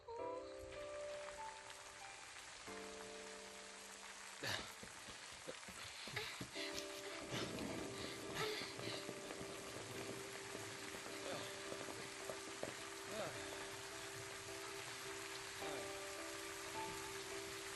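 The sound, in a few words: rain pouring in Final Fantasy XIII video game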